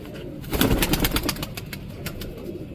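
Pigeons coo softly and flutter in a loft for a few seconds, a light burst of bird sounds and wing movement, fairly quiet and without voices.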